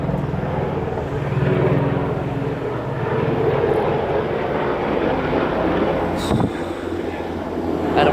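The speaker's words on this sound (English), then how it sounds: "There seems to be a lot of military helicopters flying by." Military helicopters pass overhead, a continuous low engine and rotor drone that swells and lingers across the whole stretch, moderately loud, with a brief clatter near the end.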